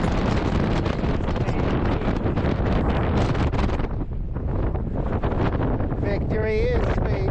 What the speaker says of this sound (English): The wind seemed angry that I was having my moment.